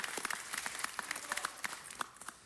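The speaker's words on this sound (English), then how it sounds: "let's give them a round of applause" Audience applause at a city council meeting honoring Marine Corps sergeants, scattered individual claps heard fairly quietly at a moderate distance, thinning out toward the end.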